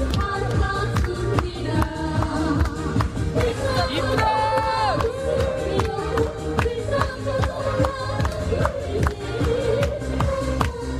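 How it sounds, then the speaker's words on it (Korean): Participants at a Korean unification cultural event clap and shout together over loud rhythmic music with steady beats, a dense crowd noise running continuously beneath the music. "모든 참가자들이 하나 되는 시간, 더없이 즐거운 모습으로 박수치고 소리 지르며 하나가 되고 있었는데요."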